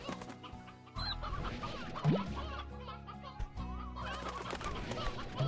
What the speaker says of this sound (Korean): 닭소리